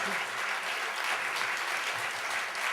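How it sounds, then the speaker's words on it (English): An audience claps for the readers at a literary event, with dense, even applause filling the whole stretch at moderate loudness and a few voices faintly underneath. "Please give them all another round of applause."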